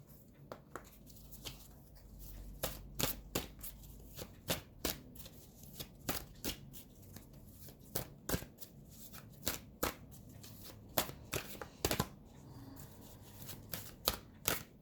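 A deck of cards shuffled repeatedly by hand, crisp riffling bursts and taps recurring every second or so, close and fairly quiet against a soft background hum.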